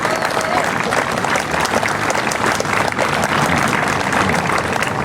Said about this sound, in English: Let's give another round of applause to these young ladies and to Ambra.